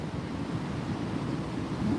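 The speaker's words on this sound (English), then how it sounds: "You could start to hear the river" A river flows near a state park in snowy Buffalo, New York, a steady broadband rushing wash with no distinct events, moderately loud and constant.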